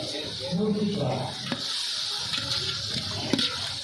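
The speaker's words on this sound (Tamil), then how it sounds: "இப்போ வெங்காயம் தக்காளி வசங்கிட்டு இருக்கு" Onions and tomatoes sauté with salt in a pan for chicken biryani, a steady sizzling hiss with occasional stirring clicks and a brief voice in the background.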